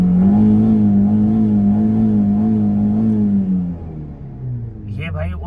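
Tuned Chevrolet Beat accelerating hard from a standstill, its engine note climbing and sustained loud and close, then dropping as the revs fall off, with a brief voice near the end.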